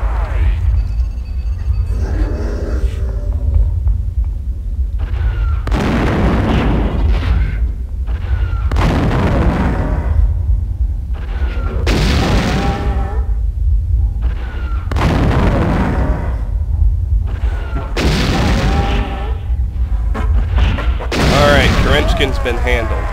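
An automated turret in System Shock 2 fires at an enemy: heavy booming shots come in a slow, regular series over a low steady hum, loud and close.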